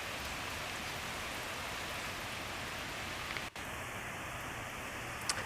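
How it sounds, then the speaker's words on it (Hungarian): Steady rain falling outdoors where a deer stands, a continuous even hiss of drops throughout with no talking. "Nem bánja, hogy esik rá az eső."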